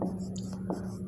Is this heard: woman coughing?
no